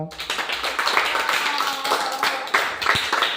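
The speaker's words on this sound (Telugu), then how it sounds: "ప్రియా చప్పట్లు కొడదాం" Group of people clapping for a girl named Priya during a children's game at a VBS event, dense steady applause with a voice or two mixed in throughout.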